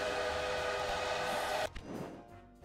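A train in the Railway Empire game rolls past with a loud, steady rumble and whistle-like tones that cut off abruptly partway through, leaving a quieter fading tail.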